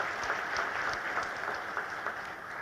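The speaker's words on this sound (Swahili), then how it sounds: "Jamani, naomba tupige makofi jamani." A crowd at a hotel launch ceremony breaks into steady applause, many hands clapping in an even wash with a few sharper individual claps standing out.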